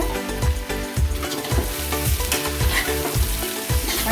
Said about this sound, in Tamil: இப்போ நம்ம என்ன பண்ணலாம்னா தேங்காயும் தக்காளியும் அரைச்சி வச்சுருக்கேன், அதையும் போட்டு இதில் வதக்கிடலாம்